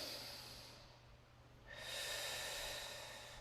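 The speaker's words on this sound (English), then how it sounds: "Take a breath before we move." Deep, slow breath taken during a strength flow exercise class, a soft airy inhale then exhale rising and fading close by, alone with no talking.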